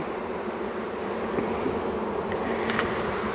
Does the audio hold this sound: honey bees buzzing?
yes